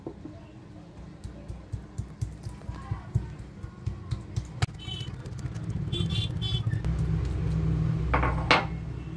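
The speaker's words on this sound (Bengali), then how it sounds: "চিকেনের যেগুলো নিয়েছি ব্রেস্ট পিসটা, এটাকে আমি এই নোড়ার সাহায্যে একটু থেতো করে নেব" A stone pestle pounds raw chicken breast in a quick, even series of close thuds and knocks. The strikes then blur into a louder, busier clatter of kitchen handling.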